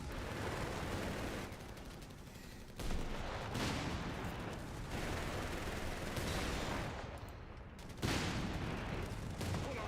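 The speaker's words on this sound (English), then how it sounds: "Our command post is under enemy fire." Sustained battle gunfire and explosions from the strategy video game Company of Heroes 3 as a command post comes under attack, a dense continuous roar with bursts of shots and booms, loud throughout with no voices.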